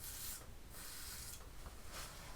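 A safety razor drawn across a lathered scalp, rasping in four short scraping strokes at a steady rhythm, close but faint, with no talk.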